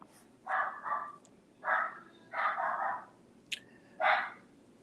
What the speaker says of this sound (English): And having to deal with my crazy dog in the other room.